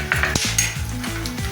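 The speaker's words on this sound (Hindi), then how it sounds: "अब इसमें 2 चम्मच घी डाल देंगे। काजू डाल देंगे, बादाम डाल देंगे" Cashews and almonds roasting in ghee in a hot kadhai, with a spoon clinking and scraping against the pan as the nuts are stirred, close and steady, over a faint background of sizzling fat.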